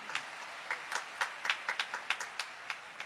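A church congregation gives scattered, light applause during a sermon, soft individual claps spaced irregularly and somewhat distant, with no voices over them.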